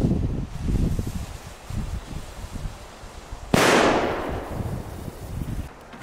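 One large firecracker goes off outdoors in a single sharp, loud bang with a brief crackling tail, following a stretch of wind and rustling.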